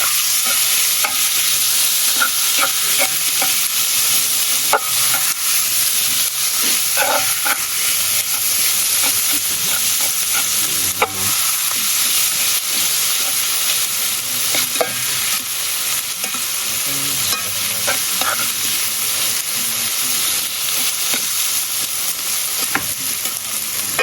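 Peas cooking in a pot for a homemade Jamaican ackee and cheese patty filling are stirred, giving a steady loud sizzle with scraping stir sounds throughout, close by and without talk.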